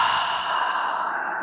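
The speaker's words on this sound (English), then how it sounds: "Exhale, let it go" A person breathes out slowly and deeply in a relaxed sigh, a close, soft, airy breath that holds for over a second and fades slightly toward the end.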